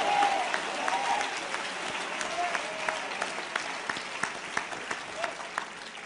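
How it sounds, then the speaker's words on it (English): A church or lecture audience claps steadily for several seconds, a dense continuous patter of hands under faint background voices. "Stop being proud and clap your hands for 5 seconds and thank him for something."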